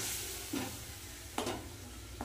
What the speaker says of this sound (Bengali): সব মশলাগুলো একসাথে কষিয়ে নেব